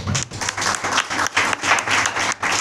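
A church congregation claps together, close and loud. The clapping is dense and continuous with a slight pulsing rhythm for a few seconds.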